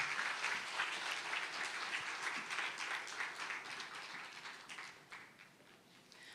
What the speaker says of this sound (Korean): 우리 하나님께 한 번 더 영광의 박수를 함께 올려드리겠습니다